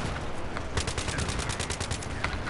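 Rapid automatic gunfire in Battlefield 3, a dense loud burst of rattling shots over a rumbling battlefield backdrop, sustained through the moment.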